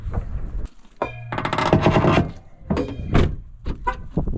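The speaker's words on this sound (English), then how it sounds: "the truck makes like a shaking heavy metal" A truck gives off a heavy, shaking metallic rattle in uneven loud bursts and clanks, close by, with no talking.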